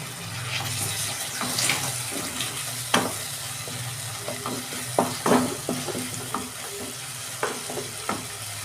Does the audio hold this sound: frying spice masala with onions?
yes